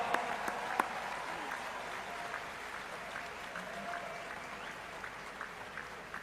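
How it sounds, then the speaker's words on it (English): Parents and family members at a university chancellor's address receive steady, moderately distant applause from the audience, with a few sharper individual claps standing out near the start before the sound settles into an even wash. "let's give them a big applause"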